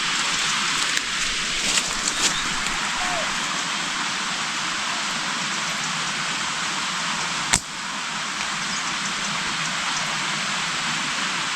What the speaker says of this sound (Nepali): पानी छिटाउँदैछ।